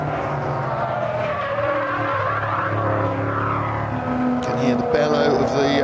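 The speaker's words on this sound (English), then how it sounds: "bellow of the Morgan's V8, but you can hear the way it's torturing its tyres as well" A Morgan's V8 engine roars loudly and continuously in a circuit race at Silverstone, with tortured tyre noise mixed in, a steady close drone with no talking.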